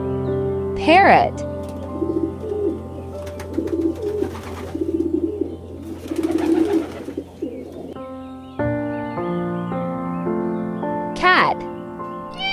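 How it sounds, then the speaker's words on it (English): A parrot lets out a couple of sharp, sweeping calls a few seconds apart, with a burst of chattering squawks between them, all heard close over a constant background tone. "Parrot."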